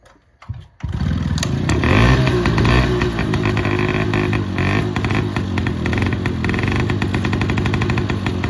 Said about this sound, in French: c'est parti, démarrage de la Cazenave.